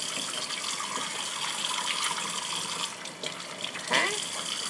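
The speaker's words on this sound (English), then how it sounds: "I gotta go behind you so I can wash my hands again." Water from a kitchen tap running steadily for hand washing, a continuous soft hiss with a brief splash change near the end.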